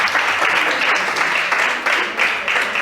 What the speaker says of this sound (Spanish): Un aplauso a los hermanos.